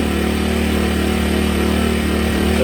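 A Sportsman 1000 watt inverter generator from Buffalo Tools runs with its eco throttle switched off, giving a steady, loud engine drone with an even hum that holds constant throughout, with no voices.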